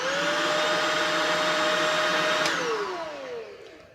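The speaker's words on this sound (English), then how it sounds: "This is the brush roll in setting 1," A Shark Rocket vacuum's brush roll runs on setting 1 for hard floors and area rugs, a steady close whirring drone with a high motor whine that drops in pitch and fades as it spins down.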